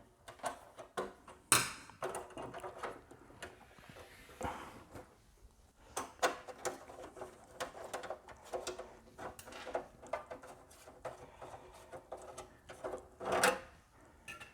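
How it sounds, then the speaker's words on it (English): Thumb screws are unscrewed from the cover slot of a PC case, producing close, faint metallic clicks, ticks and small rattles in irregular clusters with brief handling knocks, no talk. "To get access to the PCI cards, we'll need to remove the little thumb screws in the cover slot here."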